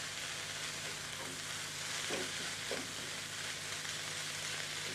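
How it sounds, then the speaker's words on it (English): Onions and meat browning in a Turbo Cooker pan with no oil, a continuous loud sizzle with a few brief scraping stirs partway through and no voices. "So those onions are caramelizing beautifully."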